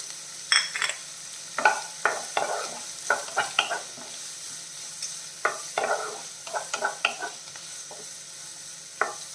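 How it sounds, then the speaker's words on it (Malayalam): Carrots and beans for an oats dish are sautéed over a medium flame. Quick bursts of crackling sizzle and spoon scrapes come in irregular clusters over a quiet background, close and fairly crisp. "ക്യാരറ്റ് ബീൻസ് ഇതെല്ലാം കൂടെ ചേർത്തിട്ട് ഒരു മീഡിയം ഫ്ലെയിമിൽ വെച്ച് ഒരു നാല് മിനിറ്റ് വഴറ്റണം"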